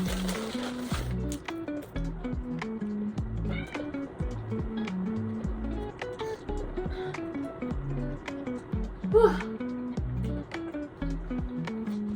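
A cat meows repeatedly nearby in short, drawn-out cries, with a louder yowl near the end over faint background noise.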